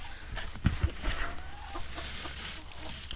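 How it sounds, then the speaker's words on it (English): Chickens in a farm pen, two roosters and a hen, give a few close clucks and short calls early on, then settle into quieter background rustling and faint bird sounds. "two roosters and the hen is back in the middle there"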